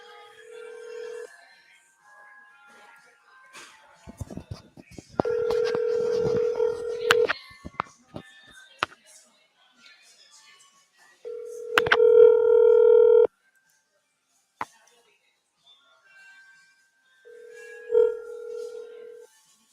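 Telephone tones during a call: steady dial tone segments alternate with quick bursts of keypad dialing beeps, separated by pauses and short clicks, clear and close.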